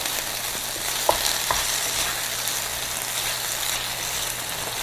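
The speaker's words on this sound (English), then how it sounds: "Now we're gonna add in some tomatoes and some tomato paste. We'll just give this a little mix." Tomatoes and tomato paste are stirred into a hot pan of creamy beans. A steady close sizzle runs throughout, with a few soft scrapes and knocks from the spoon and no talking.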